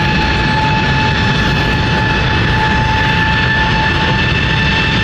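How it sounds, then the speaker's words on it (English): An Embraer E195-E2 jet takes off at London City Airport, a loud, steady engine roar with strong sustained whine tones holding evenly throughout, no voices. "E195-E2 taking off here to Zurich."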